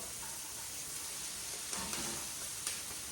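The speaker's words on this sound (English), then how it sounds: "I'm going to go ahead and add the kale, which again is just chopped up, rinsed kale." Chopped, rinsed kale frying in a pan for a tofu scramble gives a soft, low, even sizzle with a few faint scraping stirs, quiet and without talk.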